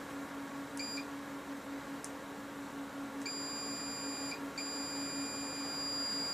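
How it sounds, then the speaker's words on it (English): Multimeter continuity tester checking soldered wiring on an ImpulseRC Reverb drone build, giving a few short high beeps and then two longer steady tones, set over a constant low electrical hum. "So it's going to beep at me if I got something wrong here."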